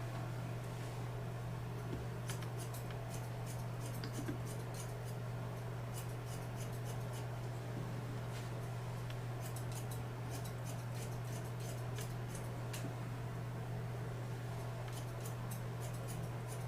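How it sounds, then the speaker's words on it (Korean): Thinning scissors snipping through hair during a barber's haircut, heard as repeated light metallic clicks in short irregular bursts over a steady low electrical hum, fairly close. "지금 제가 이 틴닝 가위로 이 질감 처리를 해놓는 부분하고 이 해놓지 않는 부분에서 막가위로 정리하는 거하고"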